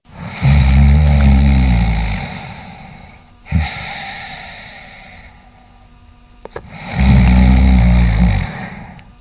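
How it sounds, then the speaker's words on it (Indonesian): Loud, close snoring in slow cycles: two deep rattling inhales separated by quieter breathing, with a short snort between them. "Suara dengkuran seperti orang lagi tidur."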